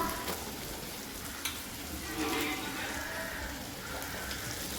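Chicken sizzles steadily in a pan among tomatoes that have already softened, frying for chukka. The crackle is continuous and close, with a faint stir or scrape partway through and no talk.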